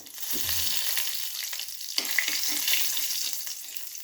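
Whole spices, bay leaves, dried red chilli, cloves, cinnamon and cardamom, crackle and sizzle steadily in hot oil in a pan, with occasional soft stirring knocks, close and fairly quiet.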